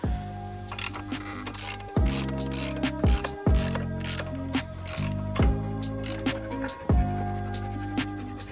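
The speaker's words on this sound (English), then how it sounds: "I would just tighten it until it feels good." Ratchet wrench tightening bolts while installing a subcage on a Honda Grom motorcycle: repeated bursts of close, loud clicking pawl strokes, pausing briefly between sets of turns, with no talking.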